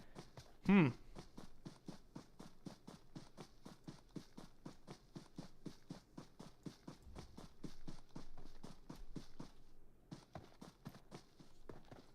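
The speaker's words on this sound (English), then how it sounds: "we actually do have some footsteps" Player footsteps running in PUBG, a fast, steady rhythm of sharp thudding steps that carries on for most of the stretch with a short pause near the end, fairly close and clear, with a brief voice near the start.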